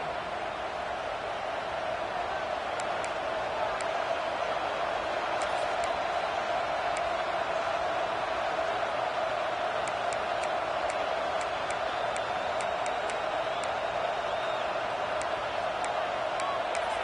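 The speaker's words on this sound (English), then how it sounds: "It's early, but this crowd is fired up. Listen to this noise here." Football stadium crowd at a Nebraska game roars continuously, a dense sustained wash of cheering and noise with occasional sharp whistles or claps poking through, steady and loud throughout.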